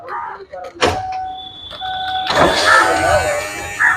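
A car's power window motor whirs as the glass is lowered, a close, steady electric hum lasting a couple of seconds, preceded by clicks and a thud, with a voice speaking around it.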